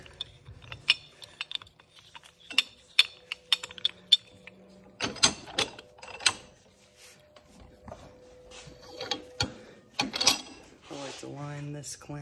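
A half-inch drive ratchet clicks in short bursts while snugging an axle boot clamp on a VW/Audi axle, close and moderately loud, with scattered mechanical clatter between the ratcheting strokes.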